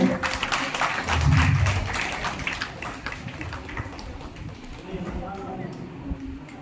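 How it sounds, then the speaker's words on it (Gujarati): An audience at a Ram Katha gathering applauds loudly to honour Samatbhai. Sustained clapping fades gradually while a voice talks over it. "જોરદાર તાળીઓથી વધાવજો સામતભાઈને"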